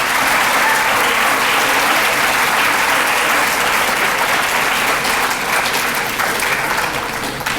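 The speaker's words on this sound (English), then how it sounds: "If we could give them a round of applause" Audience applause at a school district's distinguished alumni award ceremony, a loud, dense, steady clapping that fills the room and holds throughout before tapering slightly at the end.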